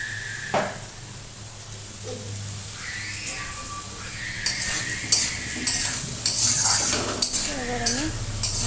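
Onions with salt cook over low heat in a pan, giving a gentle sizzle under repeated spatula scrapes and metallic clinks against the pan that grow busier toward the end.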